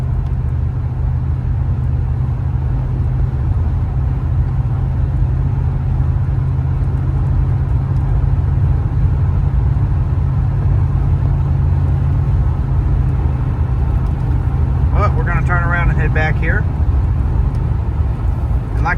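A pickup truck with a 5.7 liter V8 and automatic 700R4 transmission drives along, its engine a steady loud low rumble throughout, with a brief voice near the end.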